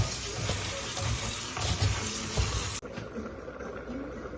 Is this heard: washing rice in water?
yes